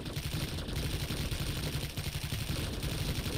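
Rapid bursts of automatic gunfire from Planetside 2 gameplay, a dense continuous clatter of shots that carries loud and steady throughout with no talking over it.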